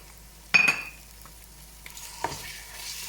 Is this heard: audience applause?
no